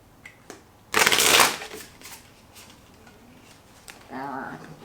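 Tarot cards are shuffled close by in one loud, rustling riffle burst lasting about half a second. Softer card handling follows, and a voice speaks briefly near the end.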